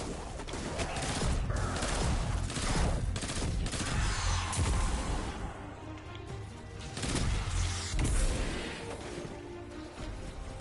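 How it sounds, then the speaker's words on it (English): Rapid, repeated gunfire from a weapon in the video game Destiny 2, a dense, loud barrage of shots and explosive bursts that runs almost continuously, with brief swells in intensity. "This gun's insane the way it sounds when it fires."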